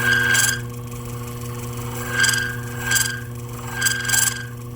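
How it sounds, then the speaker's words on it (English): Emery buffs polishing rusty brass clock pivots on a running lathe during an E. Ingraham mantel clock restoration: a steady motor hum with a few short rasping rubs that swell and fade at uneven intervals. "I'm just going to polish this up as best I can on the lathe"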